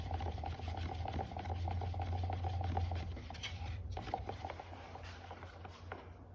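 Epoxy being stirred by hand for fiberglassing a boat hull, a steady low scraping churn with faint repeated tapping against the container, continuous and close throughout.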